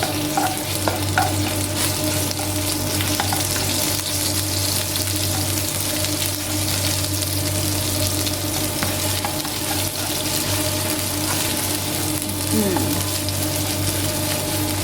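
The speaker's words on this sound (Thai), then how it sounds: "ตอนเราใส่พริกแกงนะคะ ทุกคนลงไปผัดเนี่ยให้เราใช้ไฟอ่อนก่อนนะคะ" Thai red curry paste stir-fries on low heat in a pan for a spicy pork cartilage stir-fry, giving a dense continuous sizzle with scraping spatula strokes and a steady low hum underneath.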